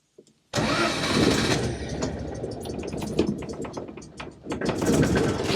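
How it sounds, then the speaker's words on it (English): Citroen Acadiane van engine cranking and firing up after a silent start, then running with a rough, agricultural clatter and uneven revs, loud and close. "let's have a listen to how this engine sounds"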